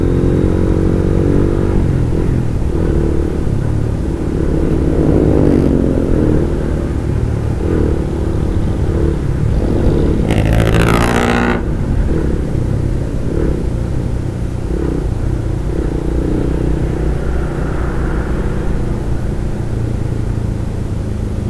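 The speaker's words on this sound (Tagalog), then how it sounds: "Pagka mga rush hour na, lintik tambak ng mga sasakyan dito." Rush hour road traffic in Gentry, with cars and motorcycles moving in a dense jam. A steady engine rumble and revving run throughout, and one louder vehicle sweeps past near the middle. No one speaks.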